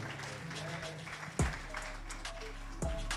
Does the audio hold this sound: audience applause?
yes